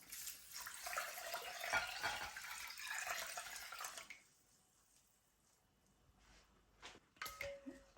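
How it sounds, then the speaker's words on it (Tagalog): Glutinous and jasmine rice washed by hand in water for arroz caldo, with sloshing and swishing for about four seconds, then quieter drips and small splashes, close up. "So, drain water. And do it one more time. Wash it one more time."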